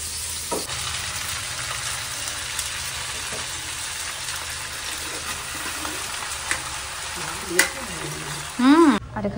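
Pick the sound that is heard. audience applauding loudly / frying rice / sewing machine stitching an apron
frying rice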